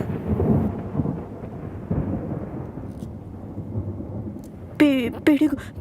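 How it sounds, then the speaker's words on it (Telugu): Thunder rolls through a scene in a Telugu drama film, a loud, broad rumble that swells at the start and slowly fades, followed by a short tonal burst near the end. "పిడుగు పిడుగు శబ్దం."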